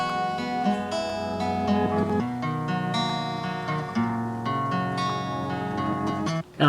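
A 118 BPM music sample layered with a reversed ambient sample in an alternative hip hop beat: dense, steady melodic texture with rhythmic chordal pulses, playing continuously and loud, then cutting briefly at the end.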